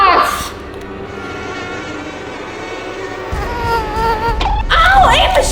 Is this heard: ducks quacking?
no